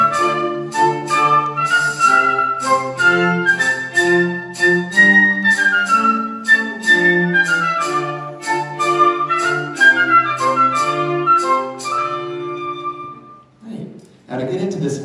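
Orchestral kingdom theme from the musical story CJ Storms the Castle, a bright melodic passage with sustained harmonies and moving lines playing steadily and fairly loud, then breaking off into a brief shuffling noise at the end.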